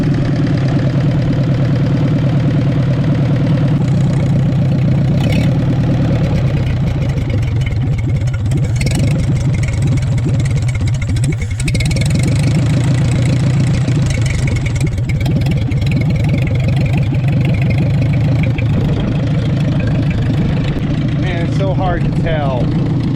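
An old Ford tractor engine idling, a loud, steady low chugging with exhaust noises that runs continuously, with a voice talking over it.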